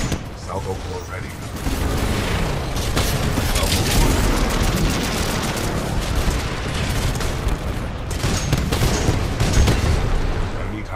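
Tone Titan salvo core launching a long barrage of tracking rockets in Titanfall 2, a dense continuous roar of rapid launches and booming blasts lasting several seconds, loud and close with mechanical clatter.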